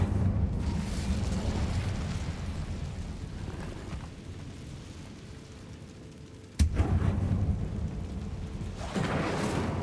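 An Incendio fire spell cast in Hogwarts Legacy bursts out with a loud, rumbling whoosh and crackling roar that fades, then a sudden sharp blast cuts in and flares again near the end.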